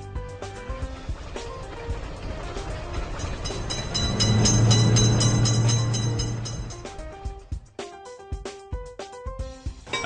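A game train thunders through a level crossing, its low rumble rising and peaking in the middle before dying away, while cheerful looping music and plinking tones continue before and after.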